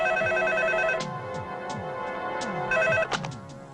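A telephone rings loudly nearby in repeated electronic trills, with pauses between the bursts. Swooping music plays underneath, and there is no talking during the ringing.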